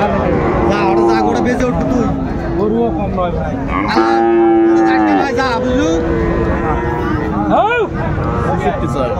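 Cattle, Friesian and crossbred bulls at a livestock market in Raniganj, Dinajpur, moo loudly and repeatedly up close, long drawn-out calls overlapping amid people talking and crowd babble.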